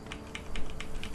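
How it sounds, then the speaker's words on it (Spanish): A computer keyboard is being typed on in quick, irregular taps, about five sharp distinct key clicks in just over a second, close and clear. "No, estaría escuchando el teclado ahí"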